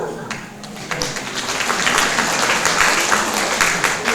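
Applause from a church congregation, a dense wash of clapping that swells after a brief dip and holds steady and fairly loud to the end, with faint murmuring voices mixed in.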